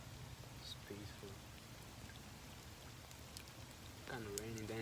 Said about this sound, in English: it's raining a little bit harder now